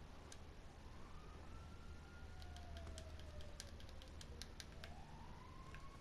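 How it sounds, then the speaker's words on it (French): An ambulance siren in the GTA video game wails in rising and falling sweeps, faint and distant beneath steady game noise and repeated sharp clicks. "J'entends l'ambulance."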